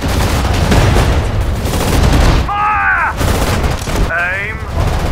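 Battle sounds from Sudden Strike 4, a British mission at the Mareth Line in March 1943: loud, continuous rattling gunfire and booming blasts, broken by two short gaps where a shouted voice cuts through.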